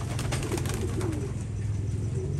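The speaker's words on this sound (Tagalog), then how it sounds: "Ito, dami nilang kalapati dito." Racing pigeons in a loft, heard as soft, low cooing over a steady dense background murmur of many birds.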